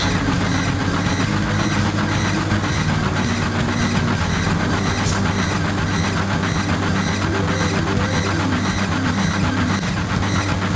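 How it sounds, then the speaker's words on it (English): A train in the video game Final Fantasy 7 gives a steady, loud, continuous rumble with faint rhythmic clatter, unbroken throughout with no voices. "So we got off the train in time."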